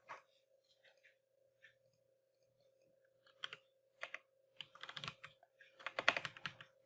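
A computer keyboard is typed on in sparse clicks that turn into quicker bursts of keystrokes toward the end, close but quiet over a faint steady hum.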